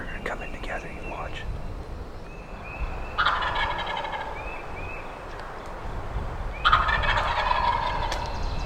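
Wild turkey gobblers on a ridge gobble in two loud bursts, each several overlapping gobbles ringing out against a steady outdoor background, with faint scattered calls between them.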